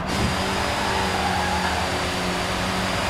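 Engine of a car in Forza Horizon 4 roars continuously at high revs, a dense, loud, steady drone with no break and no talk.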